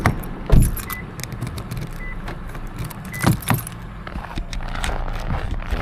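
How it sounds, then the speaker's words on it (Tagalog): Car keys jangle in short bright bursts with a couple of louder clinks, close by, heard while a battery is being removed from a car, over a low steady background hum and no talk. "ito niya, susi niya"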